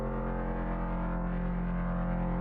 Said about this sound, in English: I added a really powerful bass that we made in the ARP.